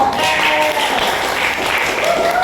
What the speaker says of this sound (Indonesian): Tepuk tangan kalian.